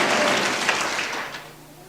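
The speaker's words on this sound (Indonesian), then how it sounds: "Tepuk tangan bagi Allah kita saudaraku." Applause from a church congregation during a sermon by Pastor Timotius Arifin, a steady wash of clapping that fades toward the end.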